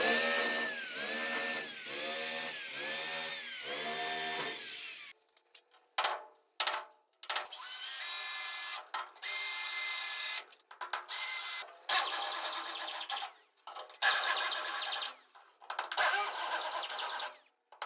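Drilling out spot welds on a bed brace of a 1973-79 Ford F-100 during a long-to-short bed conversion: a close, loud whining drill that rises and falls for several seconds, then harsh broken bursts of metal drilling or grinding with brief gaps.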